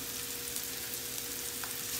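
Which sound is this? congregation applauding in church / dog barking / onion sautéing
onion sautéing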